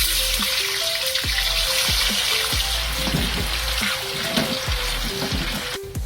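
Tofu frying in hot oil, a continuous close sizzle and crackle with scattered pops, alone without voices.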